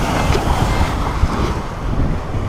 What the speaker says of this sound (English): You can tell it's a little windy out.